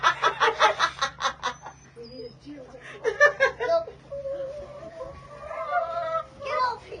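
A backyard hen clucks in short, agitated bursts while a small child holds her, the clucks close and loud, mixed with adult talk and giggling.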